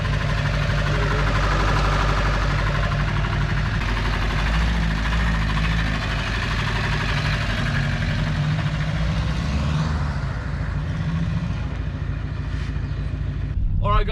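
A Toyota Hilux double cab's engine drones steadily from inside the cabin while driving, a low rumble with faint talk in the background.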